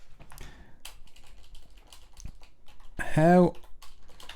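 Rapid clicking keystrokes on a computer keyboard patter through the first few seconds, close and fairly quiet, before a short spoken word cuts in.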